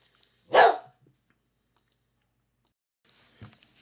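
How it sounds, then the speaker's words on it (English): A single sharp dog bark rings out nearby in a quiet room, followed by a few seconds of silence and then faint clicks and a softer rustle. "Pretty sure you're able to hear my dog in the background"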